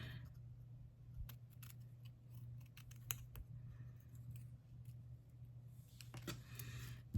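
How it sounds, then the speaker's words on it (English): Scissors snipping through a paper Relax label for a stamped mug craft, a quiet sequence of small irregular cuts close by in a calm room, with a few sharper snips near the end. "I'm just going to come in and cut this Relax label out, getting ready to put the mug together."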